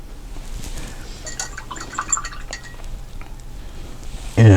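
A paintbrush is rinsed in a water jar, giving light clinks and soft sloshes that come in scattered bursts, then end on a sudden louder knock.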